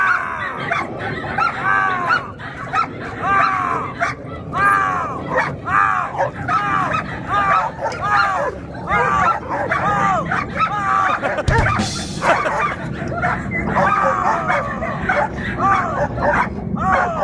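Hunting dogs bark and yelp continuously at a tiger, a dense chorus of sharp barks and whimpers running throughout, with people talking underneath.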